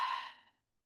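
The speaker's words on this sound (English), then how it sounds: "Open mouth exhale." A single open-mouth exhale during Kundalini yoga breathing: one close, breathy whoosh that fades out within half a second into silence.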